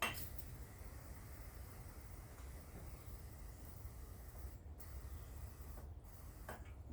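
Compressed air hisses steadily into an oil passage of a Harley-Davidson Sportster engine, a continuous broadband rush with a few brief sharper bursts near the end, faint and constant throughout.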